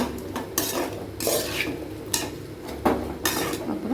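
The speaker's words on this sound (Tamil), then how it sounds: "மஷ்ரூமை போட்டு சும்மா ஒரு 2 மசாலாலாம் பிடிக்கிற மாதிரி ஒரு 2 கிளறிக்கலாம்" A spoon stirs mushrooms into masala in a pot for mushroom biryani, giving a series of close, scraping and clattering strokes with a light sizzle underneath and no talk.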